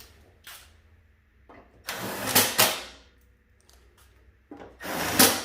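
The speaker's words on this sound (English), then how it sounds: "reinstall your 3/8 screws" Screws are driven back into a snowblower's belly pan, giving several bursts of scraping, rubbing metal-on-metal grinding separated by quiet pauses, close and moderately loud.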